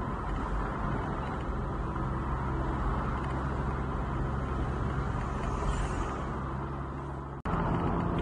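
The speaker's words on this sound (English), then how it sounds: "You get the lovely engine note" A Porsche Boxster RS60 Spyder engine hums steadily while driving, a constant low drone with road and cabin noise, with a sharp brief click near the end.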